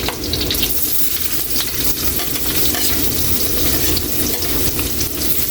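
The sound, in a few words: ginger sautéing in hot oil with pork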